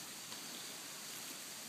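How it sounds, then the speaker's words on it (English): Steady broadband rush of a waterfall running after winter rain on a ranch, a continuous even hiss with no breaks, fairly faint and heard alone. "waterfalls flowing"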